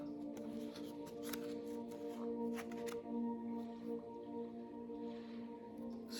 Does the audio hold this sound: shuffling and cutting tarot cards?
yes